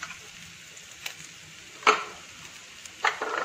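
Bellary-style beef cooks in a pan with green chillies added as a utensil stirs it, giving a faint steady sizzle with a few light scraping clacks and two louder stirring knocks, heard close up with no talk.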